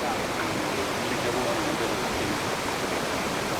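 Roaring Yellowstone River waterfall in the Grand Canyon of Yellowstone, a dense, constant broadband rush of falling water that fills the whole stretch with no breaks.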